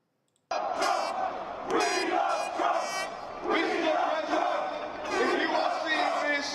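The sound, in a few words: crowd of Trump supporters in the United Kingdom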